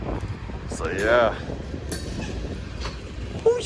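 CN freight train carrying intermodal cars rolling past at close range, a steady broadband rumble of wheels and cars with a brief metallic squeal and clink partway through, with people talking nearby.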